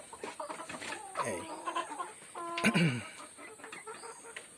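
Free-ranging farm chickens cluck and call in short bursts close by, with a brief spoken word and a louder squawk near the end.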